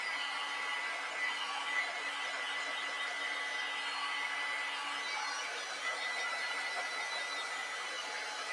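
A hair dryer blows steadily on a freshly painted watercolor of a flowery letter A, giving an unbroken, fairly loud whir throughout with no voices.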